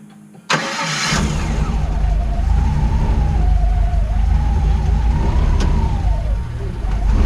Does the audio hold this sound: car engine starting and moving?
yes